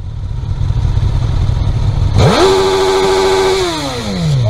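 Suzuki GSX-S1000RR motorcycle engine idling roughly, then revved sharply with a rising howl that holds at high pitch before falling back down, loud and close with no talking.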